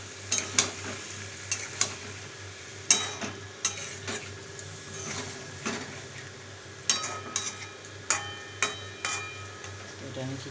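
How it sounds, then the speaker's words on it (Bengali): A jackfruit, chickpea and potato curry bubbles in a pot while a spoon stirs it. Sharp scrapes and clinks against the pot come at irregular intervals over a steady low simmer. "এটা ফুটছে, এবার এইটার সঙ্গে এটা আমি কষে নেব।"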